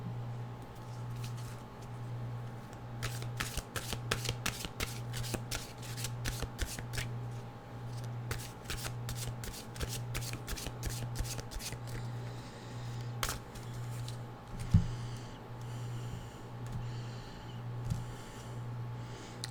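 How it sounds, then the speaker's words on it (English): Someone shuffles a deck of mystical wisdom oracle cards, with soft, repeated riffling and sliding flicks close by over a steady low background hum. "Let's see what our mystical wisdom cards have to tell us."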